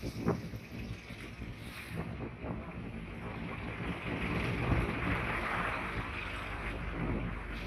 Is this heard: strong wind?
yes